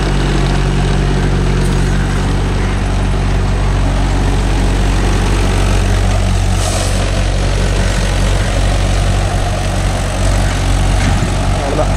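A Mahindra 575 DI tractor drives a rotavator through a coconut grove, its heavy diesel engine droning loud and steady with a deep low throb and continuous churning clatter, no talk.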